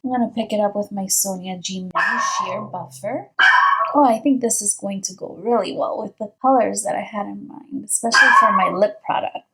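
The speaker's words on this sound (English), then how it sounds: "Don't mind Freddy if you hear him barking." A small pet dog named Freddy barks and yips intermittently beneath a woman's steady, close talking indoors, the barks brief and partly masked by her voice.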